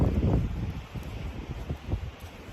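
Strong wind gusting around 30 miles an hour buffets the microphone outdoors, a loud low rumble at the start easing into steady rustling gusts.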